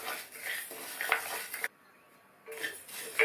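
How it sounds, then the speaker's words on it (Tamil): Nylon sago roasts in a kadai over a low flame, with spoon scrapes and metallic clinks against the pan that come in close bursts and break off into a short quiet gap partway through. "அதே கடாயில் 1/4 கப் நைலான் ஜவ்வரிசியை சேர்த்து நிதானமான தீயில வச்சு வறுத்துக்கணும்"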